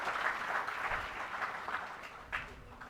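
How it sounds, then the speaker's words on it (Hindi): An audience at an honour ceremony for newly selected primary school teachers applauds for Bhagirath Choudhary, a soft, steady patter of many hands heard at a distance. "जोरदार तालियां भागीरथ चौधरी सर के लिए।"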